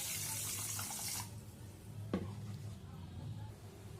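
Water running from a tap into a pot for raw mango chutney with bay leaves, cardamom and cloves, a loud steady gush for over a second, then a quieter kitchen with one brief clink.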